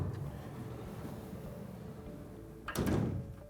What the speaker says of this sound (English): We've got the optional electric side step